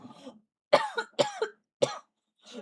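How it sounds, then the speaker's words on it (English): Several short, close coughs come in separate bursts, with brief throat-clearing sounds between them and no talking. "Do you mind not coughing?"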